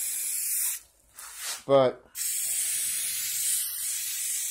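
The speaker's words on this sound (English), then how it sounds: "why don't you use a larger sprayer?" A paint sprayer hisses in steady bursts while coating cans, with a brief pause and a short rattling buzz before the continuous spray resumes; a voice speaks briefly.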